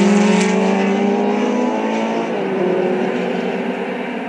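Vintage race cars roar together under green flag at the Brickyard, a loud, sustained multi-engine drone with layered engine tones holding steady then easing slightly as the field passes.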